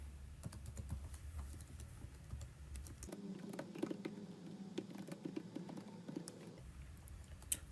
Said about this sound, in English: press cap lock, and just type the thing. So let me type it.